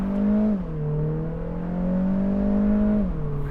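A 2025 Mini Cooper S convertible with 204 horsepower accelerating in standard mode, its synthetic engine sound piped through the speakers as a smooth rising hum that drops at a shift, climbs again and drops once more.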